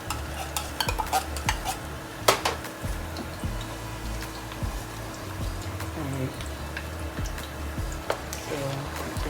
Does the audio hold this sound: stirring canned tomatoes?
yes